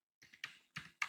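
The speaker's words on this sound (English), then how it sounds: "We just need to type our code." Java code is tapped out on a computer keyboard in a handful of quick, close keystrokes, irregular and fairly soft in a quiet room.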